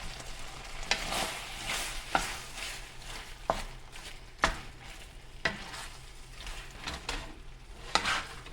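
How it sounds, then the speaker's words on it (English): A spoon or spatula stirs cream of mushroom soup in a pan for a sausage and broccoli meal, scraping the pan about once a second over a low, steady sizzle. The scrapes are close and fairly loud, and no one speaks. "And you just keep stirring it until your cream of mushroom soup starts to bubble."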